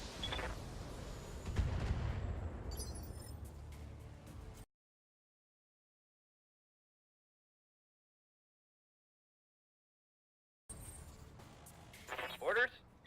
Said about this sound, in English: we'll fire the missiles too